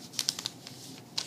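Origami paper being folded at the corners, a few quick crisp crinkles and taps in a short burst, close and quiet.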